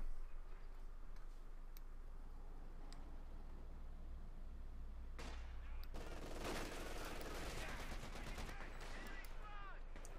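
Machine gun fire from an MG42 and a .50 caliber in the Company of Heroes 2 battle game: faint, quick ticking bursts under game ambience, with a denser, louder volley of fire in the second half.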